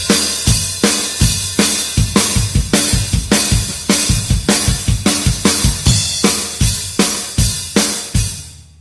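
A rock drum kit beat and fill, loud and close: punchy kick, snare and cymbal hits in a driving steady groove that tightens into rapid fill strokes before ringing out.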